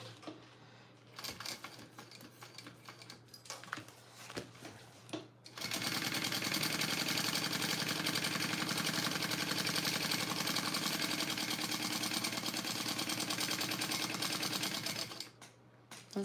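A sewing machine basting layers of fabric for a bag: a few seconds of soft handling noise, then a steady, loud, continuous stitching run for about ten seconds before stopping, close up with no voices.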